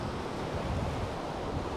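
Sea surf washes onto the shore at Vityazevo near Anapa on a November day. The roar is steady and broad, with wind buffeting the microphone and no voices.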